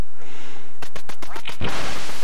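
Quick burst of several raspy duck quacks in the NES game Duck Hunt, loud and close, over a faint electronic background.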